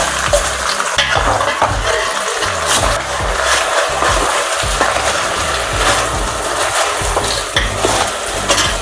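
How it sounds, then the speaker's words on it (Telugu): Crushed garlic and tempering seeds fry in hot oil for a red chilli pickle, with a steady loud sizzle and the repeated scrape and clatter of stirring, no voices. "కలిసేటట్టు తిప్పాలి మొత్తం."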